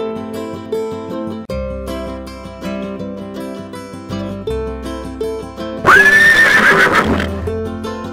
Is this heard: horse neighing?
yes